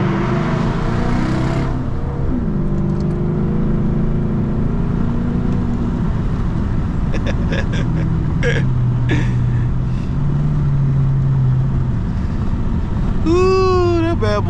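A deep, rumbling catless V8 engine idles and revs loudly and continuously, with a throaty exhaust drone and brief higher sounds near the end.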